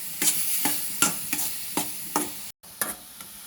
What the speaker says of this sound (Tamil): அதை நல்லா அந்த நெய்யில் போட்டு நல்லா ஃப்ரை பண்ணிக்கோங்க.